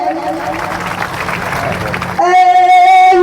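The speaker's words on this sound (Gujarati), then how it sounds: "એકવાર જોરદાર તાળીઓથી ફરી ફરી વધાવીએ" An audience at a Gujarati religious gathering bursts into enthusiastic clapping for a couple of seconds, then the applause cuts off abruptly as loud, sustained melodic singing with accompaniment takes over.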